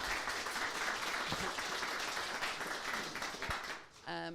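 A conference audience applauds at the close of a panel session, a dense, sustained patter of clapping that fades out and gives way to a voice at the very end.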